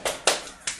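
Three sharp hand claps ring out close and clear in an indoor room, spaced unevenly over less than a second, with faint speech nearby.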